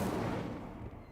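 Incendio fire spell cast in the Hogwarts Legacy video game, a loud whooshing burst of flame that starts strong and fades over about a second, heard alone without talk.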